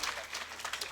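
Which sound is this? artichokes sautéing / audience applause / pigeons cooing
audience applause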